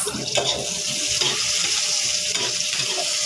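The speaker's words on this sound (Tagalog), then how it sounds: "Lutuin lang natin yung sibuyas." Onions frying in a pan, a constant close sizzle with a couple of light utensil clinks, no voices.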